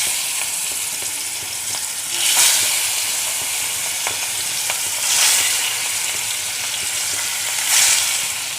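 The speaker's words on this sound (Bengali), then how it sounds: "তেল গরম হয়ে গেছে, আমি মাছগুলো ছেড়ে দিচ্ছি" Katla fish pieces frying in hot oil in a wok, a loud, steady close sizzle with stronger hissing surges every few seconds as the pieces are moved.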